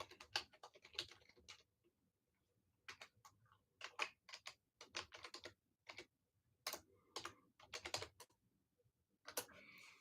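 Typing on a computer keyboard, close and clear, fast bursts of crisp key clicks separated by short pauses, no voices.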